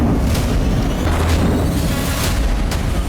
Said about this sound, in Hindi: तेल डिपो में एक बम विस्फोट के बाद लगातार कई धमाके सुनाई दिए।